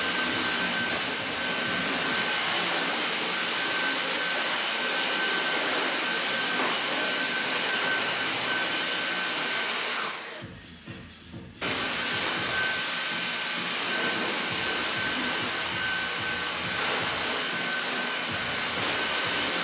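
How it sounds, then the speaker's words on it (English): A vacuum cleaner hoovering a small studio, a steady loud whirring roar running almost continuously, with a brief drop in the middle before the motor noise resumes. "give the studio a little bit of a hoover"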